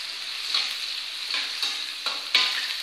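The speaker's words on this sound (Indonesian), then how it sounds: "Kita aduk." Tempeh and fried rice are stirred in a hot pan, a steady bright sizzle broken by repeated scraping strokes of the spatula, close and alone without talk.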